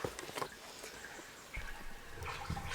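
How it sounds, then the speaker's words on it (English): Water gurgling and splashing into a small hydroelectric Coanda screen intake outdoors, a steady wet rushing with irregular bubbling bursts that swell louder in the second half. "It's gurgling away."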